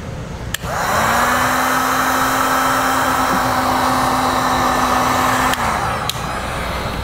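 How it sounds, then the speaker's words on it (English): A heat gun switches on with a click and blows a steady, loud whirring hiss while shrinking heat shrink butt connectors on trailer brake wiring for a 2016 Ford Taurus, then cuts off with another click. "Now we'll heat shrink our butt connectors shut."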